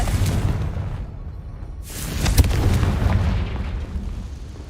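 A Confringo blasting spell detonates in Hogwarts Legacy, a loud booming explosion that swells midway and then rumbles off into lingering low noise.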